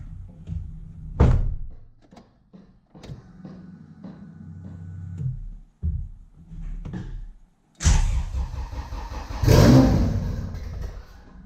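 Several thumps and clunks, then a Honda CRX Si engine cranks and briefly fires into a loud rev before fading, close by with no talking; the car has an error code.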